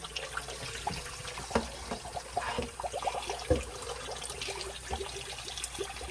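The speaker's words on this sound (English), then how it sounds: "you drain the water out" Water draining and trickling off freshly washed fish pieces for soup, a close, irregular splashing and dribbling with small knocks and drips scattered throughout.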